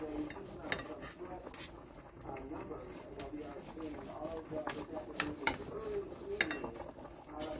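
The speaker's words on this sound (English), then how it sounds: "Just take your time and cut up your steak into little slices, however chunky you want it." Knife slicing cooked steak into small strips on a board, producing repeated light taps and clicks of the blade, close up, with a voice talking steadily underneath.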